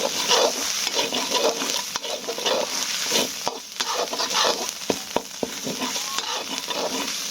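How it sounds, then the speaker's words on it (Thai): Thai curry chili paste is stir-fried in a pan for a pea-eggplant curry, with busy close scraping and stirring over a constant sizzle and occasional sharp knocks of the utensil. "ผัดพริกแกง ให้ หอมครับทุกคน"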